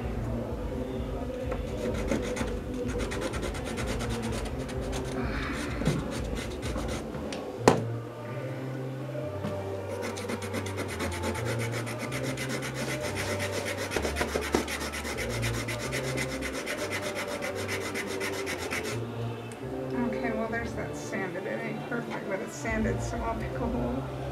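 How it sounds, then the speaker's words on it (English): Rough, steady rasping of sandpaper on a wooden toy part continues through most of the stretch at moderate level, under background music and occasional voices. "you need to sand this off"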